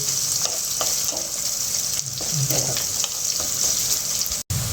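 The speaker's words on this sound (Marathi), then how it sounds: "कांदा चांगला लाल होऊ द्यायचा तेलामध्ये छान लाल होऊ देऊ" Onion fries in hot oil in a pan with a continuous close sizzle, broken by scraping stirs and a splash of water. No one speaks.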